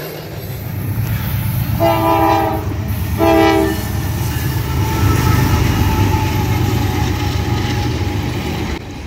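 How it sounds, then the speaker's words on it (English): A CN freight train passes with an ET44AC locomotive trailing, its horn sounding in two clear blasts over the steady rumble and clatter of rolling wagons, loud and close throughout. "The CN ET44 AC was a bonus trailing on this train."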